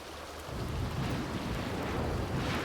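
Thunderstorm in The Sims 2 game: steady heavy rain with a low thunder rumble that swells after a quieter start and holds loud and continuous, with no voices.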